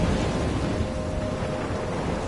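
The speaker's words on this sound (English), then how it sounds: "I'm trapped in a storm?" Thunderstorm with heavy rain in an audio-drama scene, a dense, loud roar of rain and low rumbling thunder that holds steady throughout.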